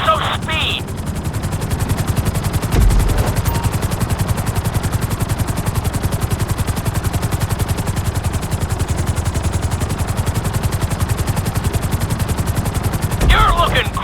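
A GTA 5 helicopter's rotor chops in a fast, steady, close pulsing beat throughout, loud and unbroken, with brief voice talk near the start and end.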